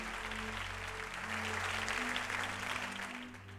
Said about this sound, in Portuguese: aplauda ao Senhor bem forte e bem alto